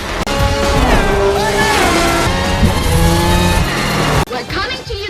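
A sports car speeding at full throttle during a film car chase, with loud engine revving, squealing tires and crash-like impacts, partly under a voice, ending in an abrupt cut to quieter sound.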